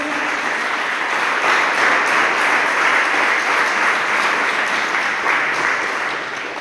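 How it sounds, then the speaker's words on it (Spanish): Church congregation applauding steadily together, a dense, sustained wash of clapping that holds at even loudness throughout and tapers slightly at the end. "Démosle una fuerte ofrenda de palmas a nuestro buen Dios"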